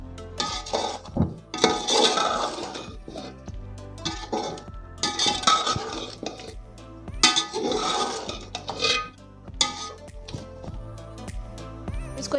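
Whole spices with coriander and cumin go into a pot for chicken yakhni pulao, bringing repeated bursts of clinking and rattling against metal alongside a sizzle, close and fairly loud.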